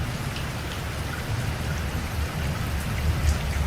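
Evening rain falling steadily, a dense close hiss of drops on surfaces with a low rumbling undertone, continuous throughout with no voices.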